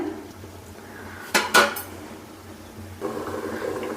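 A metal lid comes off a cooking pot of okra and dried fish curry with a short clatter and clink, preceded and followed by a low simmering bubble, close and with no talking.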